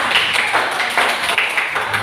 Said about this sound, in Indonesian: Mereka duduk tepuk tangan.